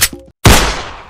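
A single loud gunshot sound effect in a Bangla comedy sketch, a sharp crack that rings out and decays over most of a second, preceded by a brief tonal blip and a moment of silence.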